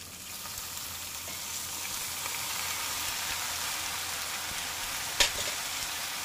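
Beef for kilawing baka sizzles in a hot pan with a steady, even frying hiss throughout and one brief sharp crackle near the end, with no voices.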